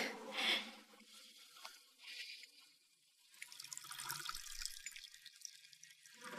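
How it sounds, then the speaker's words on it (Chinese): Water is poured out in splashy, gurgling bursts: a loud gush at the start, a few smaller trickles, a short lull, then a longer rushing pour toward the end, heard close by with no talking. "倒水！"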